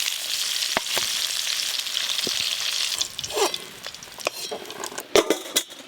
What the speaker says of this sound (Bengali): এই সবজিগুলো লাল লাল করে ভাজা হয়ে গেল তুলে নেবো